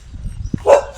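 A dog gives a single loud bark, with a short low thump just before it, while chasing someone near a temple. Faint background noise runs underneath.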